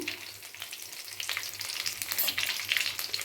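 Green chillies and curry leaves fry in hot oil in a pan, giving a steady close sizzle and crackle with occasional stirring scrapes throughout.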